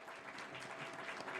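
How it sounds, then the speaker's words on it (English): Audience at a Toledo Rotary meeting applauding, a brief dense wash of many hands clapping together in a room at moderate volume. "Please give her a round of applause."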